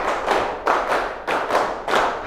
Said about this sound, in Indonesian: Sekarang kita tepuk gembira.